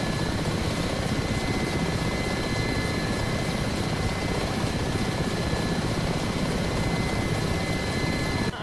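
Ka-50 Black Shark helicopter in the DCS combat flight simulator, a continuous loud rotor and engine roar that stays constant throughout with no talk.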